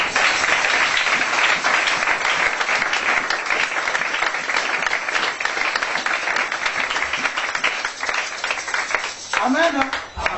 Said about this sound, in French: Acclamez pour Yahweh.